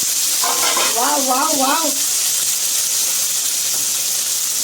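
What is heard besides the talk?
eggplant and tomato added to sizzling pan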